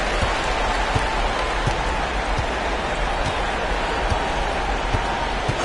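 Denver Nuggets home crowd cheering in the basketball video game NBA 2K25, a dense continuous roar of noise with scattered sneaker squeaks and ball bounces beneath, steady and loud throughout.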